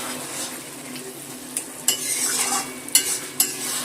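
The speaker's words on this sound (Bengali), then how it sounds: "দিয়ে দিলাম লেবুর রস আর এই গরম মশলার গুঁড়োটা মিশিয়ে নিলাম" Lemon juice and garam masala powder being stirred into taro stolons cooked with fish head, a steady scraping stir in a pan with a faint sizzle and a few sharp clinks of the utensil against the pot.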